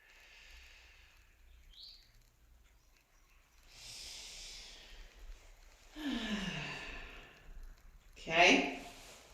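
Slow, deep breaths during a restorative yoga session, several soft inhales and exhales spaced across the stretch with a sharper, louder exhale near the end, close and quiet.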